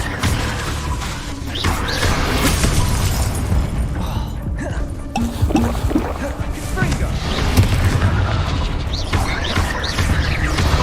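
Bombarda spell blasts in Hogwarts Legacy erupt as loud booming bursts within a busy, continuous mix of spell combat effects.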